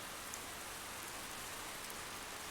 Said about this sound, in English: I've layered in some a rain sample